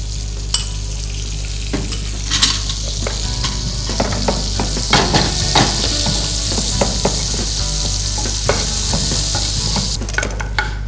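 Butter sizzles loudly in a hot pan while making Mexican croquettes, a constant crackling fry with frequent scraping and stirring clicks of a utensil against the pan.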